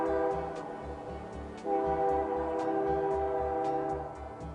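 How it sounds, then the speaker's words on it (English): A passenger train arriving in Bonaventure from Montreal sounds a long sustained horn over the rhythmic clatter of wheels on rail joints, loud and fairly near, with no voices. "The train arrives from Montreal to the town of Bonaventure 3 times a week"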